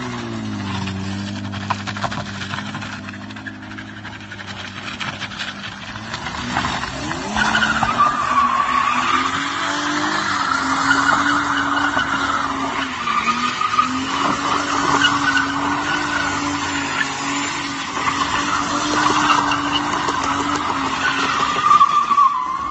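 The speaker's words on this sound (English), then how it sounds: "That thing can do burnouts and donuts, so good for me." A BMW E36 320 with a welded differential does burnouts and donuts, tires squealing long and continuously over a revving engine that rises and holds, heard from nearby for a sustained stretch.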